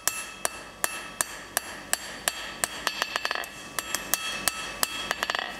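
A hand hammer strikes hot steel on an anvil while forging a taper, sharp ringing blows landing in a steady rhythm about twice a second, quickening into rapid clusters near the end, close and clear with no talk.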